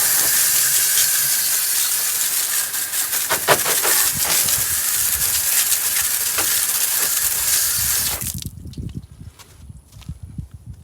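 A pressure-washer style water spray rinses the wheels and tires of a 2019 Dodge Challenger SXT, a close, steady hissing spray that cuts off near the end, leaving scattered drips and handling sounds.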